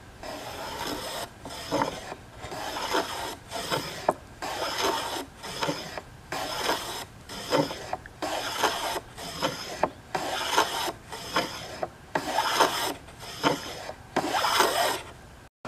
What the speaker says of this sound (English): I'm going to take this little plane here. I'm going to chamfer the edges